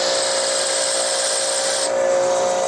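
A coarse grinder wheel sharpening small metal hinge-bracket parts gives a loud, continuous high whine, steady and close, with a brief shift in tone near the end.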